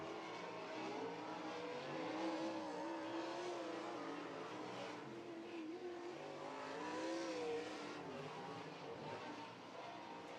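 A sprint car's engine roars steadily through a heat-race lap at Hilltop Speedway during Ohio Sprint Speedweek, its pitch rising and falling as the car drives around the oval, heard from a distance under a wash of crowd and track noise.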